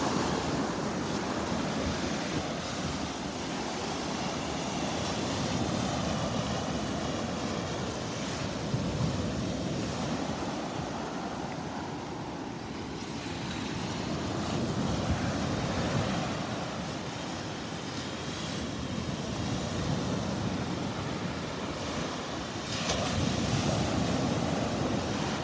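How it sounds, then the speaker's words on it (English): Ocean waves break and wash onto a beach near Wiggins Pass in North Naples, Florida, at a very high tide, a continuous roaring surf that swells and eases over the span, with wind buffeting the microphone and no talking. "We had a combination of a super high tide and some pretty good waves."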